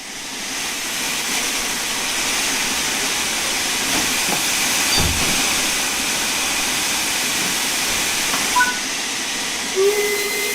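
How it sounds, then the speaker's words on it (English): Train doors closing on a passenger train in the Train Sim World 4 railway simulation game, heard as a steady loud hiss of air with faint mechanical clunks and a brief tone near the end, no talking. "Now that the passengers have boarded the train, close the doors."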